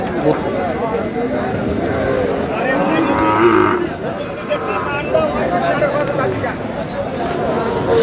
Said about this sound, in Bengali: শাহিওয়াল জাতের ষাঁড়